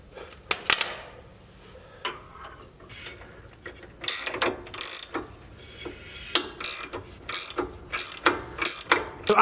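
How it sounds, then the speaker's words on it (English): Gear wrench ratcheting on a bolt during a Clayton Offroad 2.5-inch lift kit install on a Jeep JLU, heard as close, crisp bursts of rapid clicking separated by short pauses, getting more frequent toward the end. "you can spin the gear wrench just like you need to"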